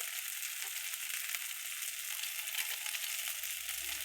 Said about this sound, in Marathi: हळद जरा असं चांगलं भाजू दिलं ना छान लागतं